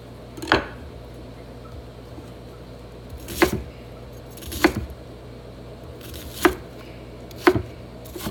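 An onion being chopped on a cutting board: five or six separate, crisp knife strikes at irregular intervals, close and fairly loud, with quiet pauses between them.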